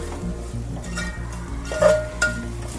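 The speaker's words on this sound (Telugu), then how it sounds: "ఒక రెండు నిమిషాలు ఫ్రై చేస్తాం ఇలా సూపర్ స్మెల్ వస్తుంది" Ingredients for bagara rice pulao frying in a pan while being stirred, with a soft sizzle under repeated scraping strokes and a couple of light metallic clinks from the spoon against the pan, close and moderate.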